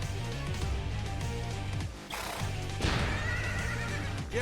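A horse neighs in the Soul Hackers video game, a loud whinny rising around the midpoint over steady game music and clip-clop effects, with no talking.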